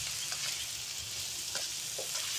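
Cut asparagus and snow peas sauté in a hot pan with oregano, a steady close sizzle and hiss with occasional stirring scrapes and no talking.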